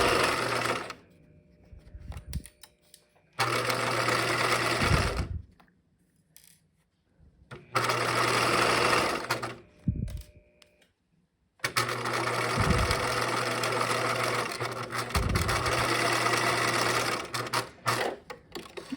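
Sewing machine running bursts of regular stitching, length 2.5 to 3, along a marked seam line on a backpack's bag lining, with backstitching; several loud, close stitching runs separated by short pauses.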